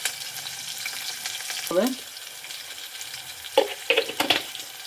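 Drumstick pieces sauté in a pan for sambar, a soft continuous sizzle broken by a few scraping stirs and brief clatters near the end.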